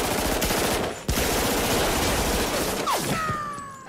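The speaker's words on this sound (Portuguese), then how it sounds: "o momento em que os dois heróis entram atirando indiscriminadamente num prédio" Rapid machine-gun fire from the Matrix lobby shootout scene, a loud dense automatic burst running almost continuously, with a short break near the start and a descending whine near the end.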